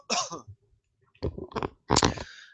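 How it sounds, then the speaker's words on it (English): A few harsh coughs in separate bursts, close and fairly loud, with short pauses between them and no talking. "Well, I got a cough again."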